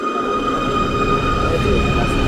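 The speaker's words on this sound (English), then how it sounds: "as the train is pulling out" Munich U-Bahn subway train pulling out of Neuperlach-Zentrum station, a loud close rumble of wheels and motor with a steady electric whine rising as it departs.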